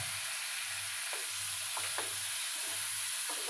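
Boiled pasta being stirred into mushrooms in a pan, giving a steady low sizzle with soft scraping strokes of mixing repeating every second or so, close and fairly quiet.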